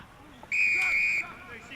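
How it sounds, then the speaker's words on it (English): A referee's whistle at a local Australian football match blows one sharp, loud, sustained blast of under a second, with faint crowd noise around it. "There's been a whistle."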